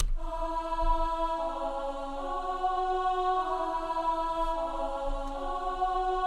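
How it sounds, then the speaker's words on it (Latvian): A female choir synth preset sings sustained, harmonically rich chords that shift gently between notes, steady and clear throughout with no talking over it. "Nākamais presets ir šis sieviešu koris."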